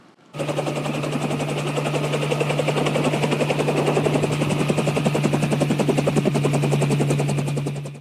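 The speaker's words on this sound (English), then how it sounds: "Unit 2, second chopper arrived 300 meters from last known target location." A helicopter hovers close by, its rotor beating in a loud, fast, steady chop with a constant engine whine that holds for the whole stretch, and no voices.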